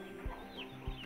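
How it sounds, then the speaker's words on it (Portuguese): Chickens on a small rural farm give a few soft, low clucks, quiet and somewhat distant against faint outdoor background, with no voices. "Agora eu vou mostrar para vocês as galinhas."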